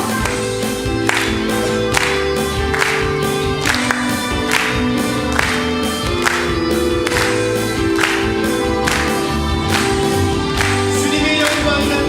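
Congregation clapping in steady rhythm along with loud worship singing and instruments at a Sunday afternoon church service, the claps sounding as regular sharp beats throughout under the music.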